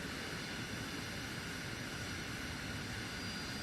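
A video game aircraft lands and rolls down a runway. Its jet engine gives a steady, even roar with a broad rushing hiss that holds unchanged throughout.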